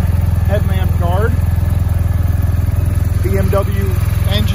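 A 2019 BMW R1250GS motorcycle idles nearby with a loud, steady, even pulsing thrum, while someone talks over it.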